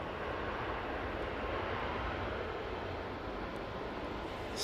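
A Ryanair airliner from Dublin at Manchester Airport, a broad, steady engine roar rolling past at a distance with no voices.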